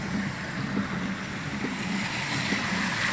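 A car drives through a flooded street in Jardim Europa, Camboriú, with a steady rushing, splashing wash of water and low engine rumble throughout.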